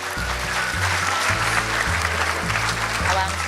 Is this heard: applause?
yes